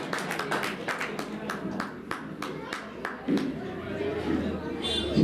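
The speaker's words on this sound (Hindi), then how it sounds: "जोरदार तालियां बजा दें" Separate, fairly rhythmic hand claps ring out from a gathered audience at a chess championship prize event, with crowd chatter rising beneath and around them toward the end.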